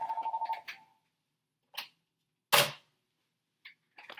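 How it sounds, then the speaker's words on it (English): A telephone rings with a short burst of rapid, pulsing electronic trills at the start, followed by a few scattered clicks and knocks in near silence. "The phone ringing on you, boy"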